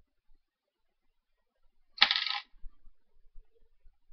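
A dime dropped from a purse lands with a single bright metallic clink, then a few faint scattered rattles and ticks in an otherwise quiet room.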